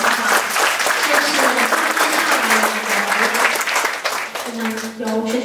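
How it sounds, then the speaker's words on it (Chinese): Audience applause at a youth forum hosted by the Taipei mayor, a dense, sustained wash of clapping from a large crowd lasting several seconds, with faint speech underneath near the end. "感谢我们再一个热情的掌声给我们的冠军"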